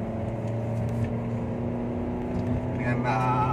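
Perodua Bezza 2020 engine held at full throttle while climbing a steep uphill road, a steady droning hum with strong low harmonics that swells slightly toward the end, continuous throughout.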